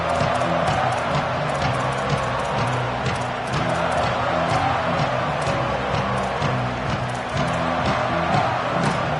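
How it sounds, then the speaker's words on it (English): A large football stadium crowd roars and cheers continuously at a distance, a dense sustained wash of voices with no single shout standing out. "This crowd ready to make its presence known."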